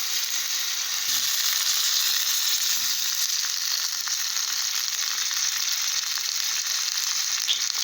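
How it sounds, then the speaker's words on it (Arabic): Stuffed tomatoes frying in a little oil in a pan for an Egyptian omelette with tomato sauce, a constant loud close sizzle and crackle without pause. "هحط بقى شوية زيت صغيرين وهرص القوطة"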